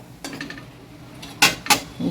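A rice container set down inside a pressure cooker, with a few light metallic clinks followed by two sharper pot knocks close by, and no talking.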